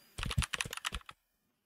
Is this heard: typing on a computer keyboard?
yes